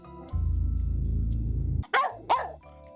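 A low, steady rumble comes first. Then Doyle, a pet dog, lets out two loud, close barks with a short gap between them, and a faint hum continues in the background.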